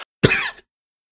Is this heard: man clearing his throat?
yes